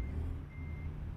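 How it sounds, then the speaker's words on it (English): Steady electronic reversing beeps from a truck in American Truck Simulator, a continuous tone sounding over low engine rumble, fairly quiet. "Is that me? Am I beeping?"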